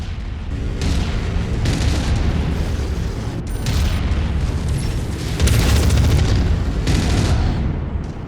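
Mechs blowing up in MechWarrior 5: Mercenaries combat, a dense run of loud booming blasts and rumbling bursts over several seconds that swell toward the end, with no voices.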